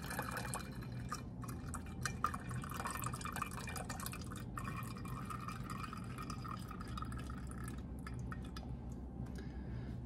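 Milk drips and trickles steadily while being poured off freshly churned homemade butter, a soft continuous liquid patter close by with no talking.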